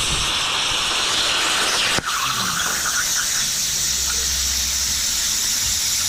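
An Eastwood 4x4 CNC plasma table cuts metal with a loud, steady hissing roar, a sharp pop partway through, then a continued high rushing squeal, close up with no talk.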